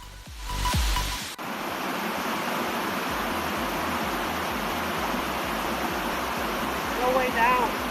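Waterfall heard from nearby on a hike along a stream in New York, a loud, steady, broadband rush of falling water that fills the whole clip after a brief louder burst at the start.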